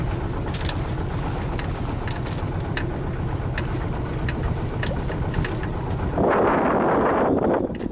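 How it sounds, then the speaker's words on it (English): Wind rises while sailing a Westerly Centaur sailboat, a steady broad rush with low rumbling buffeting on the microphone, swelling into a louder gust near the end, with faint scattered clicks. "Man, the wind's actually starting to come up now."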